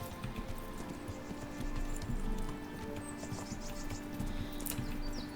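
Horse hooves clip-clop in a steady gait with a whinny on a woodland path in the medieval video game Kingdom Come Deliverance, set against a low ambient bed with faint bird chirps.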